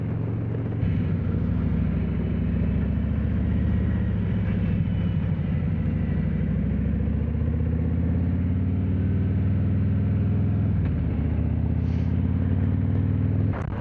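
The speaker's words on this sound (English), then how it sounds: "I love the torque on this bike. It proper pulls." A motorcycle engine pulls under acceleration, a deep steady rumble that swells and carries on for several seconds, close, loud and alone, with a slight dip and rise in pitch near the end.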